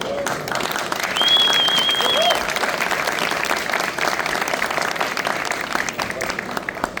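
Audience applause at the Hannover Messe trade fair, a steady roll of many hands clapping with a faint whistle and some crowd murmur underneath, easing slightly toward the end.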